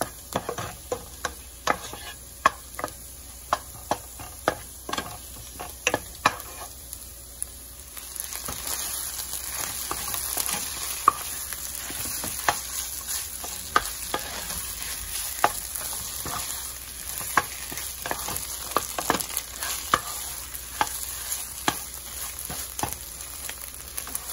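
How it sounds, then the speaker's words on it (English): Red onion sautéing in a pan for Nigerian jollof rice: sharp spoon clicks and scrapes over a light hiss at first, then a louder, steady sizzle with ongoing stirring taps, close and alone. "Here's the um, red onion. I'm um, sauteing the red onion."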